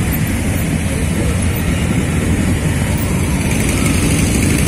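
A loud, continuous roar of many engines fills the air, a dense low rumble without pause, a large motorcade of motorcycles riding together at a 2022 Bolsonaro rally in Brazil.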